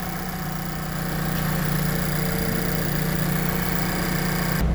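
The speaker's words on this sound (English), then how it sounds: "Now I'm going to take you out and show you the condition of the motor. Hey, with the motor running." A 2015 Mazda CX-5's engine idles with a steady, low rumble, a constant hum and slight vibration, no voices.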